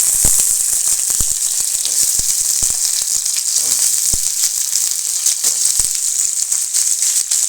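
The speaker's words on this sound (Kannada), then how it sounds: "ಇದನ್ನು ಹಾಕಿ ಚೆನ್ನಾಗಿ ಫ್ರೈ ಮಾಡೋಣ." Eggplant pieces frying in oil in a pan, giving a loud, steady sizzle throughout with scattered sharp crackles and pops.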